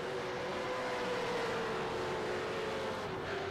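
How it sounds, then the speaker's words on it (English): V8 Supercar racing car engines drone steadily at a distance, a continuous mid-pitched roar with a slight downward pitch drift, and no voices over it. "I don't know if everyone viewing out there can hear the engines of these cars"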